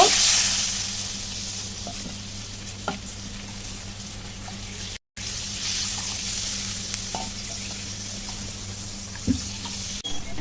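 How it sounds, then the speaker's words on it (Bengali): Water goes into a hot pan for a pangas fish curry, giving a steady close sizzling hiss with a few faint clinks and no voices. "মাছের জল দেবো ভিতরে জলটা পরিমাণ মতো দেব"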